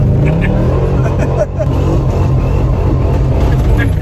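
Old truck with a worn-out transmission, engine revving through its exhaust pipes; a loud, close, continuous low rumble with rising throttle, and voices faintly mixed in.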